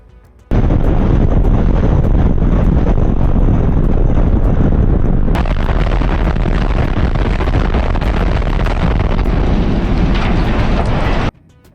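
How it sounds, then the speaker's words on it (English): Explosive charges go off during the controlled demolition of a high-rise building, a sustained, roaring blast of noise that swells midway and runs for about eleven seconds before cutting off, loud and distorted with wind buffeting. "It became the site of one of the most impressive controlled demolitions in the city's history."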